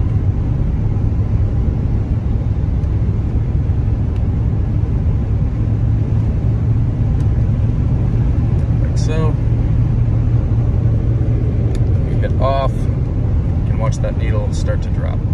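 A 1989 Ford F-250 XLT Lariat pickup with 46k miles accelerates, its steady low engine drone heard from inside the cab, loud and continuous, with brief faint chirps over the top.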